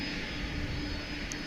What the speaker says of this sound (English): The MD-11 is on the move.